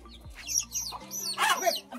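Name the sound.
farm chickens clucking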